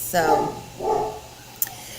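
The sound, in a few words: dog barking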